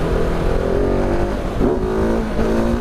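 A 2019 KTM 690 Enduro R motorcycle engine revs steadily and loudly in off-road mode as the rider prepares for a wheelie, with a brief rise in pitch partway through and no talking.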